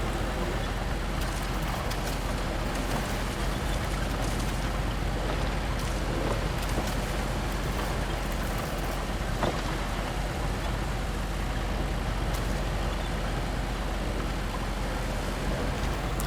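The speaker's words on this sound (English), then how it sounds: "It does a respectable job of slogging through the mud and rocks." Off-road scout vehicle with a winch slogging through mud and rocks in the game Washout, a steady, dense engine rumble with churning noise, continuous and unchanging throughout.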